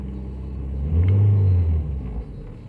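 A car engine with a slight misfire and no stored trouble codes is revved once, its low rumble swelling for about a second and then dropping back to idle, loud and close with no voices.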